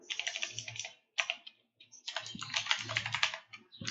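Code is typed on a computer keyboard, rapid close clacking keystrokes in dense bursts separated by short pauses, with no one speaking.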